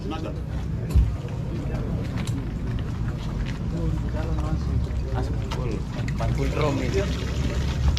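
Liquor seized at an outdoor destruction event is poured into a drum, a steady splashing gush that runs the whole time under crowd noise and voices.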